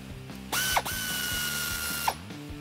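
A ratchet works on a 21 mm front caliper bolt on a 2015-2019 Ford F-150, at the steering knuckle. There is a short mechanical burst of clicking and whirring with a sharp start and stop, close by and with no talk.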